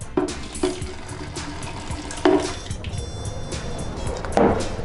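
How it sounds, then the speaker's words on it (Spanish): Warm water is poured into a container of ferric chloride solution, a steady close splashing stream with a few louder gurgling surges and brief knocks. "Vamos a echar agua caliente"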